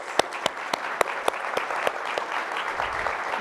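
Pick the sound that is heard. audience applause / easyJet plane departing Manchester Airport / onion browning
audience applause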